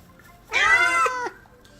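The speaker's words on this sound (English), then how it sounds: "Meow jump scare." A single loud, drawn-out cat meow from inside the video game Palworld, heard near an abandoned house. It is close and sudden against a quiet background and lasts under a second.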